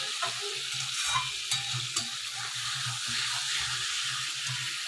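A spiced potato and eggplant curry for a fish dish frying and being stirred in a pan, with a steady oily sizzle and intermittent scraping stirs up close.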